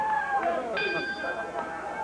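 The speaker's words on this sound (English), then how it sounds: "Referee calls for the bell." A wrestling ring bell clangs with sharp metallic rings and lingering tones at a televised match, over crowd chatter and talk.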